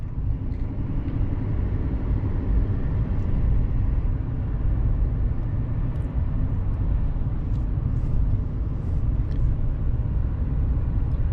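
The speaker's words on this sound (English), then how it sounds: "I feel this truck coasts very well" A Chevrolet Silverado 3500HD Duramax dually truck coasts along a road, a steady, close low rumble of road and drivetrain noise holding even throughout with no voices.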